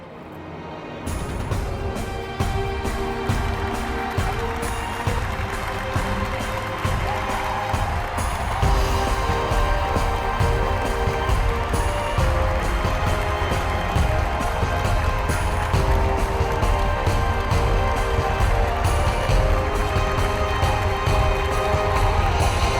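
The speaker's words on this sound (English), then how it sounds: "One more time, a big round of applause for those amazing Alexis Brothers" A large audience at a Circus Ring of Fame induction claps and cheers loudly for the Alexis Brothers, a dense, sustained wall of applause with whoops that runs throughout.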